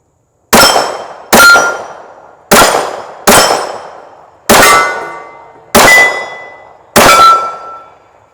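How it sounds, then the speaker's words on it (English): Seven loud, sharp reports from a Taurus PT 24/7 .45 pistol fired in single action come at uneven intervals, each with a ringing tail that decays before the next shot; no voices. "Pretty easy little 45 to shoot."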